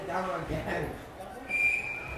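A referee's whistle at a U19 AA girls' ice hockey playoff game gives one sharp, sustained high blast partway through, sounding over rink noise and a commentator's voice.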